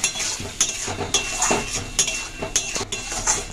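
Spiced raw jackfruit curry frying in a pan while a spoon scrapes and clinks against the metal in quick repeated strokes over a low sizzle, no one speaking.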